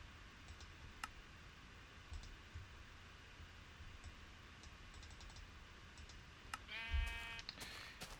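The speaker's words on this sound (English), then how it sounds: "Those sheep are going to be annoying." Sheep bleating in Minecraft Beta, a faint, distant call under a low steady ambience with scattered keyboard-like clicks, followed by a louder rising sequence of short tones near the end.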